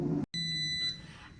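An air fryer beeps as cooking finishes: one clear, sustained electronic tone with a high pitch that rings for well under a second and then fades out, heard close and alone.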